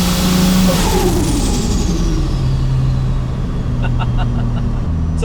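A 530 hp Ford Falcon XR6 Turbo with a new timing chain kit revs hard and loud, its engine note sweeping up and falling back in a sustained roar, close by.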